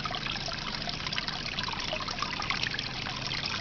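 Steady trickle of water from a Magnum 350 aquarium filter on a turtle pond, a continuous close splashing dribble with no talk over it.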